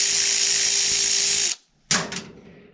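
An impact-style power tool undoes old bolts on a sheep farm, giving a loud, steady whirring burst up close that stops abruptly, followed by a short, sharp rattling blip after a brief silence.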